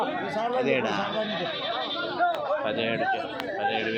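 Goats bleat amid a busy crowd of overlapping chatter at a weekly livestock market, their cries rising intermittently over the steady murmur of voices.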